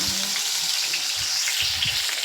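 Ginger and garlic fry in a pan while a large meal for about a hundred people is cooked, giving a loud, dense sizzle with brief low scraping bumps; any talk stays faint underneath.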